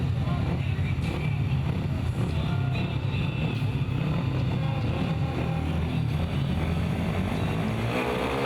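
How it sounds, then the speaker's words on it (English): Speedway motorcycles roar together at the start gate of a Golden Helmet meeting at Heusden-Zolder, Belgium, a dense, steady engine drone that fills the whole stretch without a break. "Revs are up and away they go."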